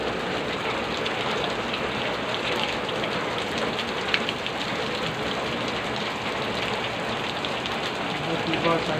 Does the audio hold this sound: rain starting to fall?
yes